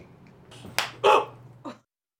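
Two people clap their hands together on a count out on a trail: three sharp, separate smacks over about a second, close and fairly loud, then silence.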